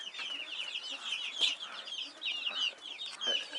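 White guinea fowl cluck and chirp repeatedly in a rapid, busy chorus, moderately close, with no talking.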